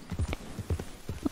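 Horse hooves clip-clop in an irregular trotting rhythm in Red Dead Redemption 2, a few close, distinct thuds per beat with no voices over them.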